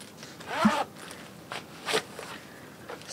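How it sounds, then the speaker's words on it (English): A side zipper on a pair of Pleaser ADORE-1020 blue chrome and black seven-inch high heel ankle boots is pulled open in a few quick rasping strokes, close and distinct, without talking. "Really easy because of the zip on the side."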